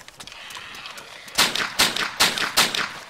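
Four sharp gunshots in the video game DayZ crack out in quick, fairly even succession after a quieter stretch of faint ambient game sound, each loud and close.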